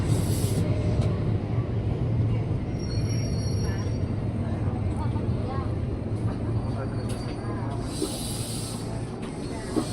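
A 12-car KRL commuter electric train at Manggarai station in Jakarta, with a steady low rumble and hum of the idling trainset, brief high hisses, and faint chatter in the background.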